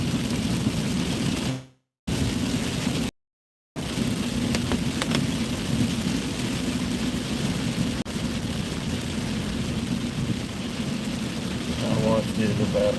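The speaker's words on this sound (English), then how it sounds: "it's raining out here this morning" Steady rain falls outside on a morning, a broad continuous wash that runs through the whole stretch with two short dropouts and no clear thunderclap.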